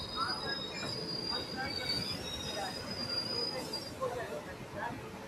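Shatabdi Express pulling into a platform at Gwalior Junction, with a steady roar of rolling wheels and long high-pitched brake and wheel squeals drawn out across the whole stretch, heard close.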